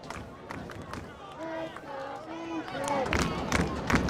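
Crowd at a high school soccer state final between Mason and Grand Rapids Christian, a broad murmur of spectators with scattered cheers swelling louder toward the end, under a voice speaking over it.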